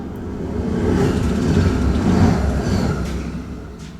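A train rolls past on a nearby railway, heard from a stone fortification as a broad, continuous rumble that swells toward the middle and fades slightly, with faint clicks on top.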